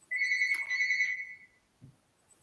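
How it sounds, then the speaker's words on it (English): A mobile phone ringtone goes off during a church talk, a bright electronic melody of repeated tones lasting about a second and a half before cutting off. "Someone's phone's going off."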